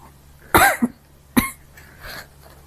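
Two sharp coughs close by, a harsh burst followed by a second shorter one, then a faint throaty sound.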